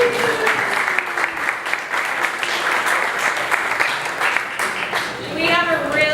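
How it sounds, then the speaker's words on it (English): Crowd applause at a Monday Means Community gathering in Savannah, sustained clapping from the audience with voices and cheering mixed in, and a whoop rising near the end. "Give a round of applause for everyone who came tonight"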